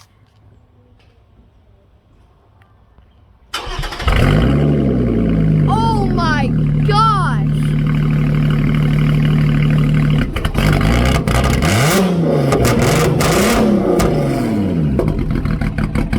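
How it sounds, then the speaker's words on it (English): A powerful car engine with a custom exhaust and valvetronic tips roars to life and revs hard with a deep, rumbling exhaust, while a person exclaims excitedly over the noise. "Here is what our custom plack exhaust sounds like."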